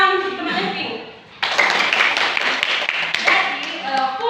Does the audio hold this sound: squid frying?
no